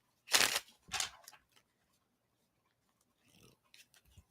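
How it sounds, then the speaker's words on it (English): Two quick riffling bursts of a deck of oracle cards being shuffled up close, followed by a pause and then softer shuffling rustles near the end. "So I'm going to shuffle these and pull a card for all of us"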